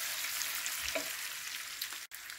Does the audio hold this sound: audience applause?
no